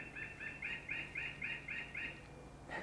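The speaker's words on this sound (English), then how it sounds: "That's the birds." A bird chirps outdoors in an even run of about eight quick, bright double notes at a steady rhythm, moderately near and fairly faint, ending with a brief rustle.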